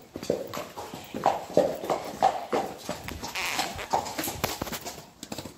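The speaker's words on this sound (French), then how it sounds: "Il y a un poney. Ah non, une jument." A mare's hooves clip-clop on the way back to a pasture after feeding, with a steady, fairly close walking rhythm of distinct strikes alongside a few farm animal bleats.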